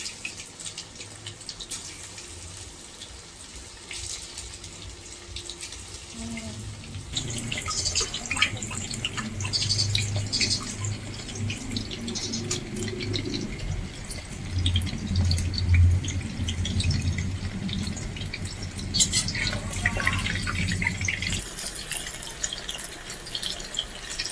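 Marinated meat pakoras drop into hot oil midway, bringing a louder, steady bubbling sizzle after quieter kitchen noise, close and continuous to the end.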